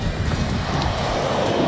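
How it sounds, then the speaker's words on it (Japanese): Strong crosswind of about 5 metres per second on a surf-fishing beach along the Enshu-nada coast, a steady roar of wind buffeting the microphone mixed with breaking surf, continuous and loud with no voices. "風も横風がちょっと強い、5メーターぐらい吹いてます"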